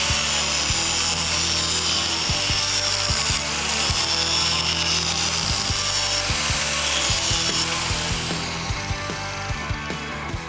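A tool grinding a double bevel into the edge of a thick metal plate before welding, heard as a steady, loud, continuous grating roar close by for the whole stretch, with no talk.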